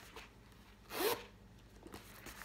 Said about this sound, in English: Dooney's make great zippers.